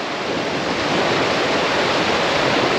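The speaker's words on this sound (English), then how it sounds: "The wave pattern is a little bit choppy, not comfortable." Choppy, crisscrossing Baltic Sea waves slosh and hiss loudly and continuously around a small Mini 6.50 sailboat under jib and main during a regatta, with wind rushing across the microphone.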